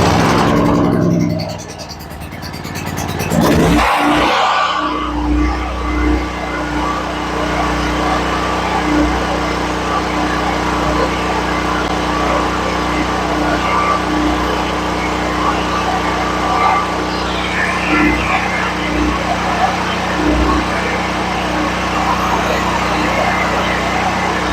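Small gasoline generator nearly out of fuel starts up and runs with a steady, loud engine drone close by, following an initial burst of cranking noise.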